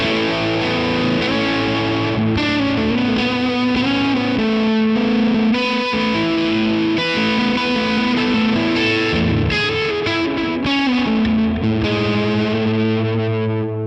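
An electric guitar plays sustained chords through a pedal's Alpaca Rouge overdrive setting, giving a thick, loud, distorted tone that rings continuously with changing chords and no talk.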